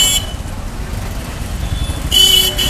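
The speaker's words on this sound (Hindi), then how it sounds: "बस के पीछे बाइक वाला हॉर्न बजा रहा है" Traffic rumbles nearby as a motorbike behind a bus honks its horn, a short toot at the start and a longer blare near the end.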